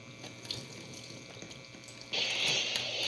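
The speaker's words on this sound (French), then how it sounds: "On va faire couler l'eau." Water gushes from a tap in the Roblox video game, a faint steady hiss that swells into a louder, brighter stream partway through.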